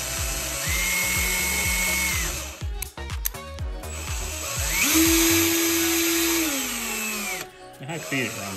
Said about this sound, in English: Let's go ahead and plug it into a drill and see how true it runs.